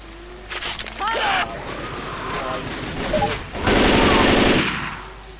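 Gunfire in Left 4 Dead 2's The Passing: close bursts of rapid automatic shots in several volleys, the heaviest near the end, with shouting voices and groans mixed in.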